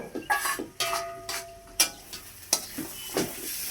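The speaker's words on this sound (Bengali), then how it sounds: "এবার আমি ভেজে রাখা আলুগুলো দিয়ে দেব।" Fried potatoes stirred into sizzling spices in a pan, with a steady frying hiss broken by repeated scraping clinks of a spoon against the pan and occasional louder knocks.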